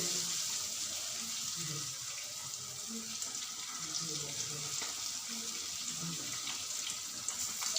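Chilli bajji fry in hot oil with a steady, dense sizzle and fine crackle, close and continuous throughout.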